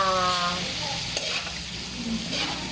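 A spoon stirs a sizzling pan of water buffalo meat stew with eggplant and okra, a short burst of scraping and frying hiss at close range with no voices.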